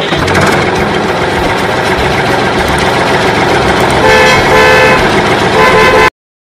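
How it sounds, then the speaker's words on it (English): A loud tractor engine runs with a steady mechanical rumble while its horn toots repeatedly, the honks growing more prominent toward the end before the sound cuts off sharply. "T, T se tractor."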